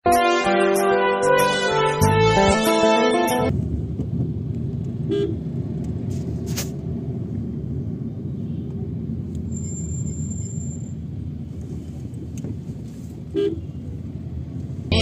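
A busy road in Ranchi's Bariyatu area: a loud burst of repeated car horns opens, then a steady rumble of passing traffic follows with occasional short honks further off.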